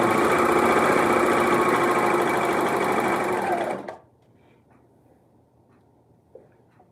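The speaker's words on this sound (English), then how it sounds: "I am serging my pieces" A serger overlocker stitches and trims fabric pieces in a loud, fast, continuous whir close by for nearly four seconds, then stops, leaving near silence and a faint tap.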